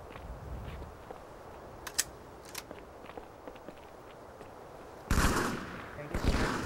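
Gunfire in a 2v2 multiplayer shooter match, with a few sharp cracks and small clicks over a low hum, then a loud burst of shots near the end.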